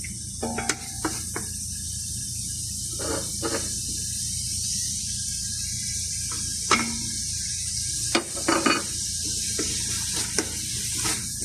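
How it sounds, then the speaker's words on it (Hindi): Mutton keema masala of garlic, ginger and tomato gravy with salt, chilli and turmeric frying in a pressure cooker, a steady hiss broken by scattered scraping stirs and clinks. "इसको फिर दोबारा से अच्छी तरह हम भूनेंगे"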